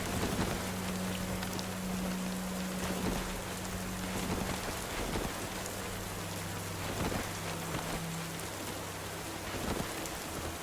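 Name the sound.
rain in the video game Cataclysm: Dark Days Ahead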